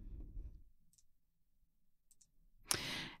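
Faint mouse clicks made while working in accounting software, a few soft isolated ticks in near silence, followed by a louder burst of noise at the end.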